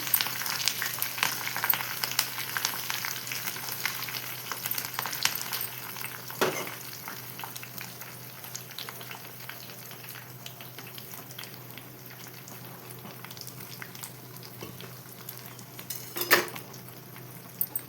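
Curry leaves and spices frying as a tempering in a pan for tomato dal, a continuous close crackling sizzle that slowly quietens, with a couple of sharp utensil knocks and no talking.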